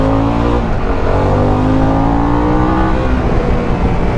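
A 2021 Harley-Davidson Pan America adventure bike, about 560 pounds, held in fourth gear near 4,500 to 5,000 RPM. Its engine revs loudly and steadily through a corner with a slight trail brake and a downshift, heard close with no talking.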